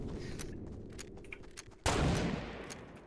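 Gunfire in Fortnite Battle Royale: a scattered string of distant shots crackles in the first half, then a sudden loud burst of fire or explosion takes over and slowly fades.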